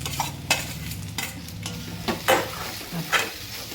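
Mashed potatoes being stirred into hot spiced oil in a pan for homemade vada, with a steady sizzle underneath and sharp scraping stir strokes recurring every second or so.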